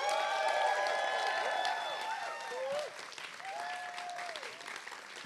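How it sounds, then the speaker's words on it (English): An audience at a university poetry slam grand final applauds for poet Caleb, with steady clapping from a moderately distant crowd and some whoops at first, the applause gradually thinning. "So please give a big round of applause for Caleb."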